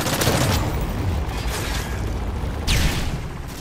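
Enemy gunfire in a shooter video game crackles as dense, rapid volleys of shots, loud and continuous, with a sharper burst near the end.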